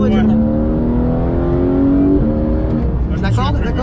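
A racing video game car's engine drones and shifts pitch as it brakes and accelerates through corners. The tone is steady and fairly loud, with people talking over it.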